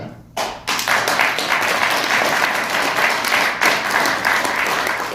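An indoor audience at a political event breaks into sustained applause after a brief quiet start, many hands clapping in a dense, even wash that stays loud and close to the end.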